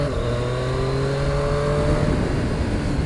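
A 2019 Triumph Street Triple RS three-cylinder motorcycle engine runs close and loud while riding through city traffic, its steady tone rising gradually with no talk over it.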